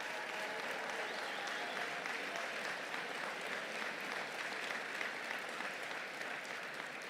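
An award ceremony audience applauds as honorees stand, a long, even wash of many hands clapping, moderately distant and sustained throughout.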